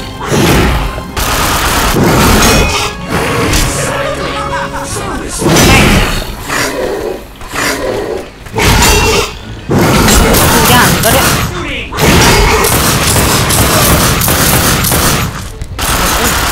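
Dual guns blazing in The Darkness II, heavy rapid gunfire mixed with booms and roaring effects, loud and sustained with short pauses between bursts, a voice talking over the action.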